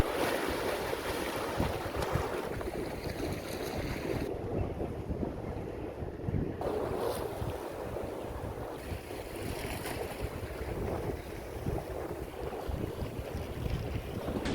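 Strong wind buffets the microphone at a sea fishing spot in January, a loud continuous roar with gusts and the wash of waves beneath it, and nobody speaks.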